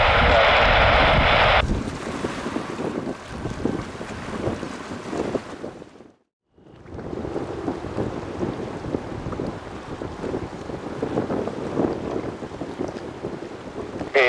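An airliner landing at JFK Airport gives a broad roaring rumble heavy with wind buffeting on the microphone, loud and close, dipping briefly to near silence before the roar resumes and holds steady.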